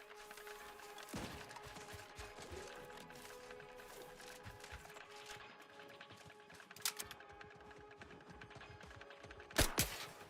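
Gunfire in the video game The Outer Worlds 2, scattered shots and mechanical clatter at moderate distance, with two sharp louder bursts standing out near the start and the end over a busy background.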